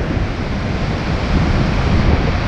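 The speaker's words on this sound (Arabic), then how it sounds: "الموج الداخل شوف اش كيدير الموج الداخل الموج يقول كلمته" Rough sea waves surge against the rocks near the Hassan II Mosque in a continuous loud roar, heavily mixed with wind buffeting the microphone, with no voices.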